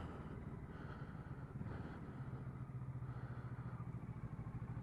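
A standard 2019 Kawasaki Z650 motorcycle idles and runs close by, giving a low, steady exhaust burble with a faint induction hiss on top. The sound is continuous and even, with a slight lift partway through and no talking.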